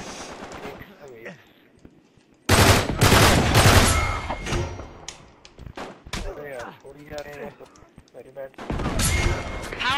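Bursts of rapid automatic gunfire in the shooter game Uncharted 3, loud close volleys broken by quieter gaps where a voice talks over the action.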